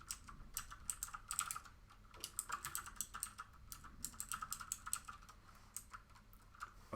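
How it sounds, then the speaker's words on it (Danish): Steady typing on a computer keyboard, a close run of crisp key clicks in uneven bursts with short pauses, no voices. "Så hvis jeg nu skriver Rødovre Ungdomsskole"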